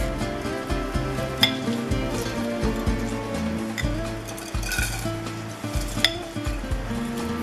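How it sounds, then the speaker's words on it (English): Whole spices toasting in hot ghee or oil before rice goes in for Syrian fatta shawarma, a continuous close sizzle with occasional clinks and scrapes of a spoon stirring the pan. "I start by toasting all the spices first."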